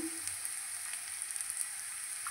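Onion and nigella seeds sizzle in hot oil in a pan, a soft continuous crackling hiss with small pops throughout and no voices.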